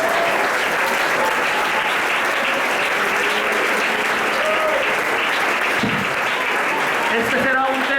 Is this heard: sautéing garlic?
no